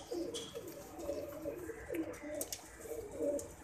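Pigeon cooing from a fancy 'Mohar wala' breed bird, soft repeated low coos in a steady rhythm, fairly quiet and close.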